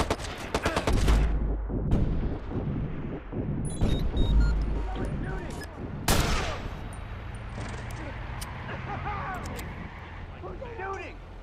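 Bursts of gunfire crack through a Watch Dogs street scene, sharp rapid shots rattling in clusters, some loud and near, then trailing off into a busy background while voices shout and talk over the commotion.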